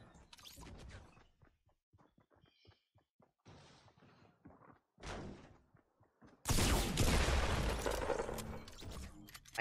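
Gunfire in the Fortnite Battle Royale video game, scattered short cracks and clicks, then a sudden loud, sustained burst of shots and clatter near the end.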